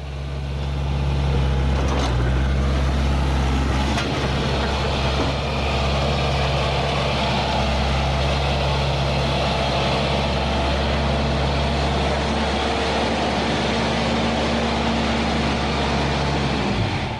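An old skid steer loader runs and drives after a hydraulic repair, its engine a loud, steady low rumble with a constant hum throughout, no voices heard.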